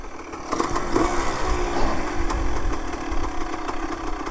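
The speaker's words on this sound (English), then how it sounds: "a 2-stroke high-performance engine derived from the CR250 dirt bike, is tuned for a 3-wheeler" The CR250 dirt bike–derived two-stroke engine on a three-wheeler runs steadily nearby, a raspy, buzzing drone that rises slightly in level after a quieter first half-second.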